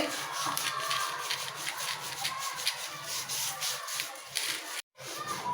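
Pangas river fish is scrubbed by hand during cleaning, giving repeated rough rubbing and scraping strokes, close and fairly constant, broken by a brief gap near the end.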